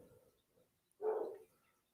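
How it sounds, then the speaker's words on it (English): A single short dog bark sounds at a moderate distance, following a quiet stretch with faint low rustling. "Now Kono's barking."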